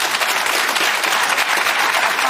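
Studio audience on the BBC's Question Time breaking into loud, sustained applause, a dense, even wash of many hands clapping throughout.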